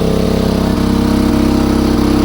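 A Champion C3500iES inverter generator runs on gas under a heavy load of electric kettles, giving a loud, steady engine hum with a regular pulsing throb throughout, no voices.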